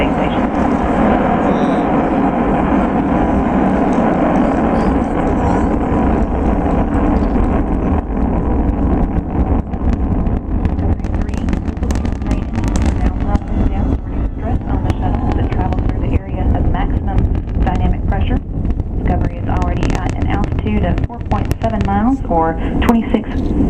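Space Shuttle Discovery on its STS-131 ascent to orbit, a loud, continuous roaring rumble with wind-buffeted noise throughout, while mission commentary plays over it.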